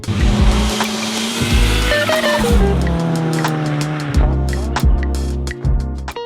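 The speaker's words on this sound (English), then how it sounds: "So what's it like driving a bone stock Mitsubishi Eclipse 2G?" A stock second-generation Mitsubishi Eclipse drives hard, its engine loud and close, revs rising and falling through gear changes with brief tire squeal along the way.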